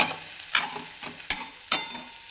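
Green tomato chutney, cooked village style, being stirred in a pan with a spatula: a few soft, scattered scrapes and light taps, quiet and close, with no talking.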